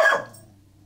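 One sharp, close dog bark that cuts off fast and leaves a faint low hum behind it.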